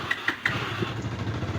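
A motorcycle engine starts after a few short clicks and cranks, then settles into a steady close idle, with no talking.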